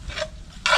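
Vegetables hitting a hot pot and sweating down at a campsite cooking fire, two brief bursts of sizzling and scraping, the second louder, close and with no talk.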